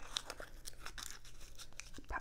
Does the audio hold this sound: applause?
no